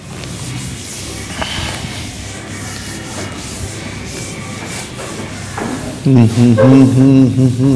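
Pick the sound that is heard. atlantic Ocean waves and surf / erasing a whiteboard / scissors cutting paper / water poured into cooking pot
erasing a whiteboard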